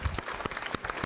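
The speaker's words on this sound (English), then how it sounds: "I think many of them are here today, so round of applause." Brief, light clapping at a GED graduation ceremony for the University of Kansas Health System, honoring sponsors in the room; a few distinct claps, fairly faint and close together.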